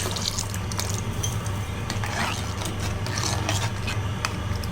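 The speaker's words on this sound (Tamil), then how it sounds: "இதுக்கு கொஞ்சம் திட்டமாக நம்ம தண்ணி விட்டுக்கலாம்" Water splashing and gurgling as it is poured into a pot of sambar, with rubbing and scraping noises mixed in, close and continuous.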